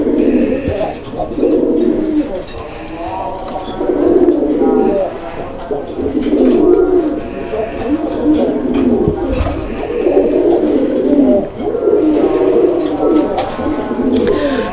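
Pigeons at a pigeon seller's collection coo in repeated soft, throaty bursts, close and overlapping in a steady rhythm, while someone talks over them.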